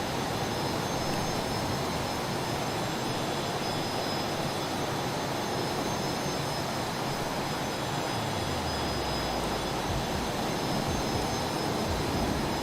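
Cessna T-37B Tweet jet making a flyover in Microsoft Flight Simulator; a continuous loud engine roar with broadband rushing noise, a low tone sliding downward as it passes, no talk.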